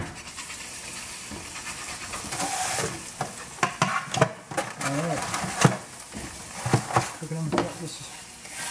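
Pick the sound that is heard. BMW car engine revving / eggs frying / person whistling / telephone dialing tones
eggs frying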